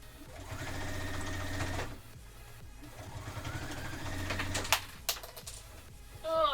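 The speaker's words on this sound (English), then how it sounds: "I'm using my foot that has the guide on it, and I started to sew with my shoes on" Home sewing machine running a 1/4 inch seam with a guide presser foot while making a box bag, a steady close whirring burst that stops, restarts, then gives way to a few clicks and clattering clips.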